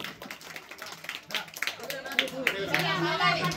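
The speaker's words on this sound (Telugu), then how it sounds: "చప్పట్లు" Scattered hand clapping at a lucky draw, a few people tapping out irregular claps that build slightly, mixed with nearby talking and children's voices.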